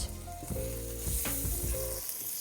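Apricots frying in a small amount of butter in a pan give a steady, close sizzle with crackling bursts and faint stirring, continuous throughout with no voices.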